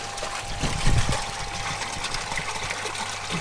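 A pond pump pushes out a strong, steady rush of water, a continuous gushing wash with a low churning surge near the start, close and fairly loud with no talking.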